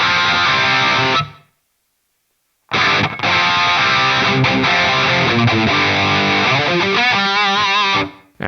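Electric guitar played through an Atomic Amplifire 6 amp modeler with a phaser effect, loud sustained chords with a swirling sweep, broken by a short silence of about a second and a half, then resuming and ringing out.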